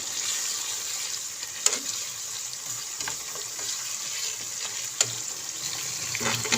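Chicken sizzles as it fries in a karahi for Peshawari Charsi Karahi, a steady hiss broken by a few sharp clinks of stirring.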